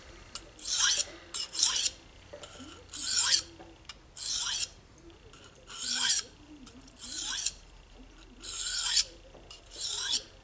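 Steel blade sharpened on an Atoma 400 grit diamond stone: seven rhythmic gritty rasping strokes, each about a second long with brief pauses between, close and clear with no talking.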